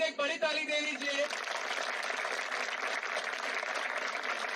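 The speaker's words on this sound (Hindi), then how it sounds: "प्लीज एक बड़ी ताली दे लीजिए" Audience applause at a protest gathering in Mumbai, a crowd of about 1,000 people clapping steadily throughout, with a voice speaking briefly at the very start.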